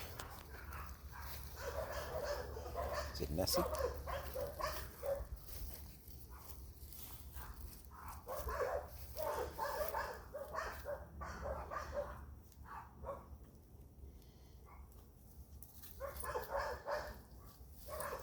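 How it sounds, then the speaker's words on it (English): A small dog barks toward a lake in short, scattered bursts outdoors, with a person speaking briefly over the steady background. "What are you barking at, little guy? Barking towards the lake."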